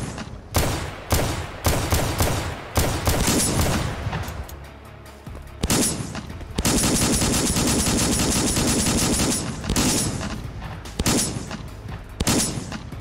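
Loud bursts of rapid video game gunfire and sustained automatic shooting, with short pauses between volleys and booming impacts, with no voices.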